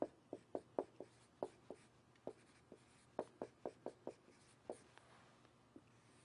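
Marker or chalk writing out a radicals problem on a board, heard as a run of short, sharp taps and strokes in irregular rhythm, close and fairly quiet, with no talk over it.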